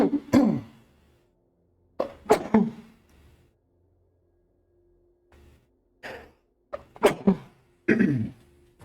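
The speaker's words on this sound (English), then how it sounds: "Oh, I feel a sneeze attack coming." A woman's sneezing fit, several sharp sneezes in clusters separated by short silences, close and loud, with gasping intakes between bursts.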